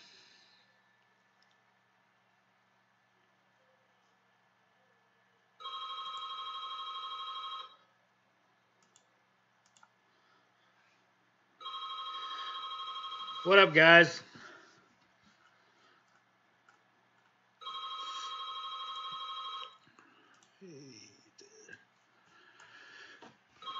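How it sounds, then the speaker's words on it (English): A home landline telephone rings three times in evenly spaced bursts, with a brief spoken greeting between rings and some quiet shuffling afterward. "Of course, the phone rings right as I start a live stream."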